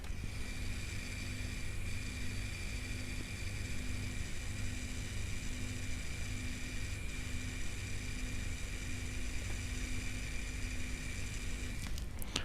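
Steady close whir of a Seagate Cheetah 450GB hard drive under a benchmark, a constant high-pitched whine over a low hum with occasional faint clicks, no voices.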